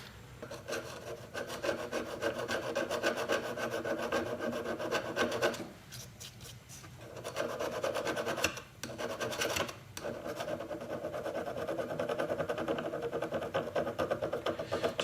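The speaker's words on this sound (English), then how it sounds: "I'm going to try to scratch it off with a screwdriver." A screwdriver tip scratches back and forth over the engraved markings on a Tekton socket, a close, steady rasping scrape with a few short breaks, faint and alone without talk.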